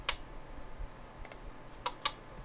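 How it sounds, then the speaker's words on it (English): A relay inside a Siglent SPD1168X bench power supply clicks a few times, sharp faint ticks spaced irregularly over a quiet background hum with no talking. "I don't know if you can hear that relay clicking."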